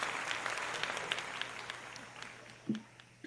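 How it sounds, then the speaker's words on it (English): An audience at a biotech competition event applauds, with many hands clapping steadily before the sound fades, and a voice briefly emerges near the end. "first give you guys a round of applause and thank you for being part of it"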